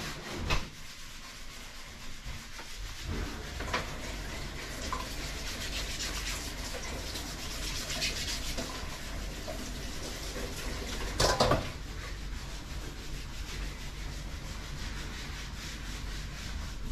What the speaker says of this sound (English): So I'll scrape off the top and see if it's any different in colour